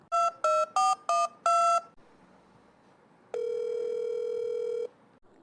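A phone call is placed: a quick series of dialing tones, a pause, then a single sustained ringback tone, loud and clear with no talk.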